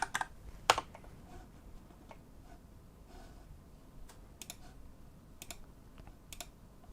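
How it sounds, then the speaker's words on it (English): Faint, sparse keystrokes on a computer keyboard, a few louder clicks standing out among soft scattered taps in a quiet room, with nobody speaking. "what we want to do is to type in AMD drivers."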